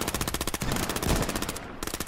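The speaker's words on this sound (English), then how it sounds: "Keep shooting." Rapid machine gun fire in a video game, a loud, close stream of evenly spaced shots rattling on without pause.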